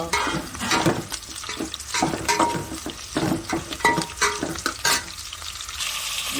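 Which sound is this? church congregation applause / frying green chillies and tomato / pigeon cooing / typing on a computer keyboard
frying green chillies and tomato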